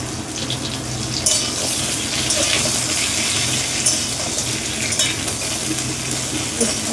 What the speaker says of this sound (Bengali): মানে সামান্য একটু তেলে ভাজবো ডাটাটা